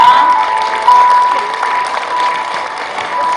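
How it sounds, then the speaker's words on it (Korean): Members at a Gwangju girls' high school alumni association general meeting applaud in a large hall, steady crowd clapping with a faint tone and murmurs underneath. "박수 부탁합니다"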